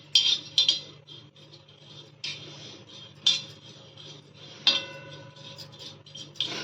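Chana dal is stirred on a hot griddle, with light scraping clinks of a utensil against the metal surface in short separated bursts, close and otherwise quiet.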